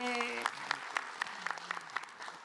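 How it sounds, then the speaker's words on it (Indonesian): A congregation at an Islamic study gathering applauds softly, scattered claps rising after a brief tonal jingle, fairly faint and thinning out toward the end. "Tepuk tangan jamaah."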